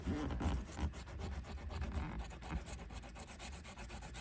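Scratching the coating off an old scratch-off lottery ticket: quiet, close, repeated rasping rubs in an uneven rhythm, with no voices.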